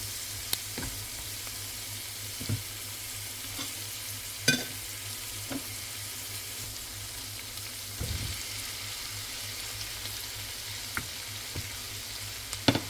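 Onion cooking in a pot with cayenne seasoning for a one-pot chicken and rice dish, a steady low sizzle and fry with occasional sharp stirring clicks and scrapes against the pot, close and without talk.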